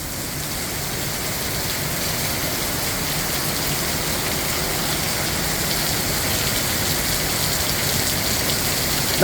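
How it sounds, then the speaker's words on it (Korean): Heavy rain pours steadily on a park, a dense, even hiss of drops spattering on surfaces close by, holding the same intensity throughout with no voices. "이렇게 비가 많이 오면 좋지"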